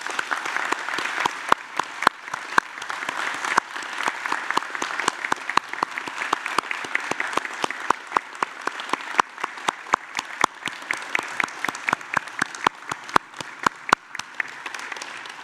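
Audience applauding graduates at a University of Newcastle graduation ceremony in Australia: steady, dense clapping from a large crowd in a hall, sustained evenly throughout with sharp individual claps standing out above the wash.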